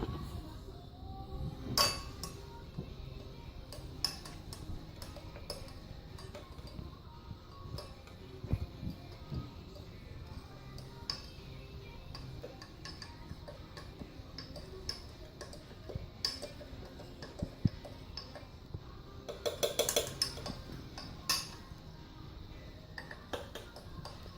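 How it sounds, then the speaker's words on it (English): A spoon stirring egg white in a lab cup, producing faint, irregular light clinks and taps against the cup over a quiet background, with occasional sharper strikes. "Stir with a spoon until a possible change is noticed in the egg white."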